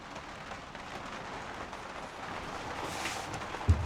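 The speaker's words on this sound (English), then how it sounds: "What is particularly crazy is how loud the rain sounds when you're in a truck." Rain drums on the roof of a box truck in a soft, continuous patter heard from inside, fairly faint and steady, with one brief thump near the end.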